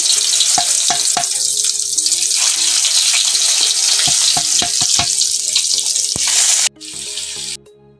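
Salted, turmeric-coated pointed gourd fries in hot mustard oil, giving a loud, dense, steady sizzle with a few sharp clinks before it suddenly drops away.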